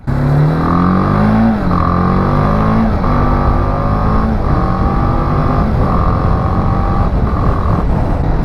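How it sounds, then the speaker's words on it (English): Exhaust note of a 2020 BMW G310GS adventure motorcycle while riding, loud and close, with a steady engine drone rising through repeated gear pulls and brief shifts between them. "I don't really like the sound of the exhaust on this bike."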